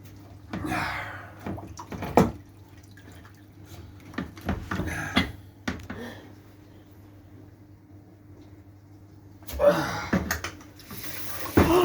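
Water pours and splashes out of a hose at a Ford Transit Connect intercooler in bursts at the start and end, with a steady low hum between them and brief sounds of handling.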